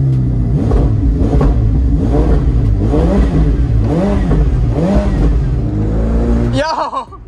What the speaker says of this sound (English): Rev it, rev it.